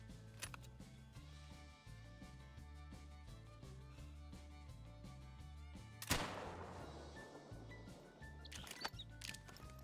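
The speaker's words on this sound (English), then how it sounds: "I guess I shoot him again?" A single sharp hunting rifle shot in theHunter: Call of the Wild rings out about two-thirds of the way through, with a decaying tail, over a quiet game music and ambience bed.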